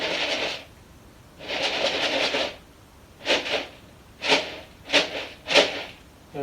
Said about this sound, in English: here is a box of fish food